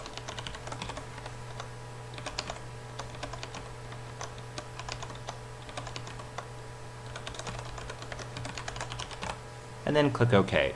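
Rapid keyboard typing, steady and close, as a username, password and email are entered during online setup for the TripleA strategy game; a short spoken remark comes near the end.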